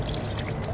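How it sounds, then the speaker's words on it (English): Water from a glass pours onto a hand in a brief, close, steady splashing trickle. "Pour it right onto my hand."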